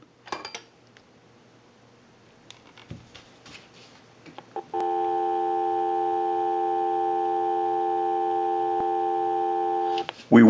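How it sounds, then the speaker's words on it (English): A Graybar rotary desk telephone, converted and wired through an amplifier, emits a steady continuous dial tone after a few clicks and handling noises, loud and unbroken for several seconds, with another clatter at the end. "Now what we can do is go ahead and give you some dial tone."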